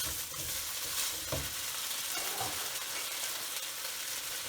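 Shrimp stir-fries for Cantonese chow mein with a continuous hissing sizzle close up, broken by a few soft scrapes and knocks as the pan is stirred.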